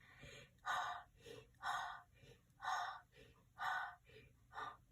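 A man imitates a monster's heavy mouth-breathing panting, five loud rasping breaths in a steady rhythm, close up with no other talk.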